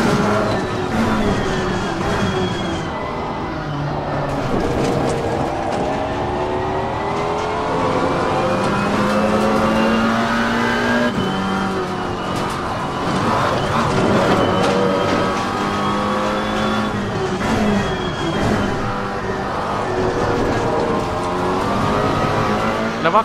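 A Maserati GT4 race car engine in the Assetto Corsa Competizione racing game revs steadily through gear changes, rising and falling continuously with occasional tire squeal throughout, with no talking.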